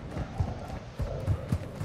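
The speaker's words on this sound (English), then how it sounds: "I heard footsteps." Footsteps thud in an irregular run inside a building in a first-person shooter, soft and muffled as if from a nearby floor, over a low background hum.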